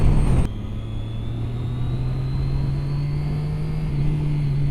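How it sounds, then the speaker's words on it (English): Triumph Daytona 675 triple-cylinder sport bike engine on a test ride, a steady droning note with a strong low hum and a faintly rising higher whine, continuous and close with no speech. "Its signature triple engine note is there."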